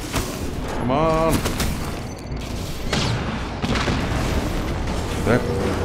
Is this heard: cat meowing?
no